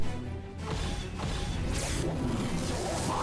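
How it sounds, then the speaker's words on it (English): A lance attack in a visual novel game smashes down as a heavy crash with whooshing, noisy texture, a loud impact sweeping into a sustained rushing roar. "And he smashes down the attack with a roar."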